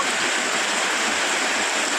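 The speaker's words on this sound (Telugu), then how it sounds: "ఎట్లా పడుతుంది చూడండి వర్షం." Heavy rain falls in a steady, loud, dense hiss with no pauses and no voices, like a downpour close by.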